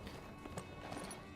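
Quiet horse hooves clip-clopping at a quick trot in the video game My Time at Sandrock, a short run of soft, even beats.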